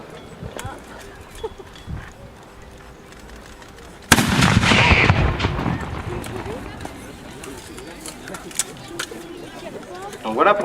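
A single sharp blast from an early 15th-century black-powder firearm, a small tripod-mounted piece fired at a historical demonstration, bursts out loud and near partway through. It is followed by a long noisy decay, with people talking before and after.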